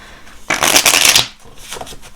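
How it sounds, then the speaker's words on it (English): A deck of tarot cards is riffle shuffled in one crisp, fluttering burst lasting under a second, followed by a few faint soft card sounds. "I'm going to shuffle that one more time because I'm not feeling confident on that"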